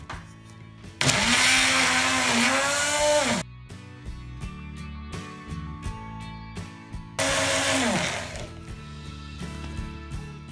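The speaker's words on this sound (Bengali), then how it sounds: "পেঁয়াজ লবণ তেজপাতা এলাচি এবং দারুচিনি সবগুলো উপকরণ দিয়ে আমরা ব্লেন্ড করে নেব" A kitchen blender whirs loudly as it grinds onion, salt, bay leaf, cardamom and cinnamon with yogurt, cumin and coriander powder for a tandoori chicken marinade. It runs in two long, steady bursts with quieter clatter between them.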